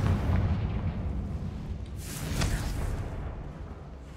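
A single Confringo explosion spell from the video game Hogwarts Legacy bursts midway with a sharp boom and brief crackle, set against continuous low, rumbling game ambience.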